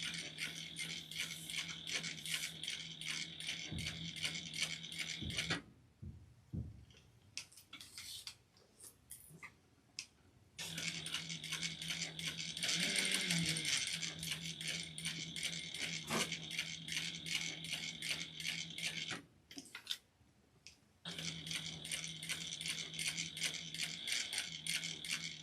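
A sewing machine runs in rapid rattling bursts while back stitching a lanyard, with several short pauses between runs and a few quiet clicks and handling noises during the gaps.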